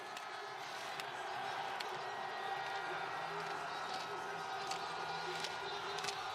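Ski fans in a crowd cheering for a Czech racer at a women's slalom World Cup race in Spindleruv Mlyn, a steady distant roar with scattered whistles and horns, a commentator's voice faintly beneath.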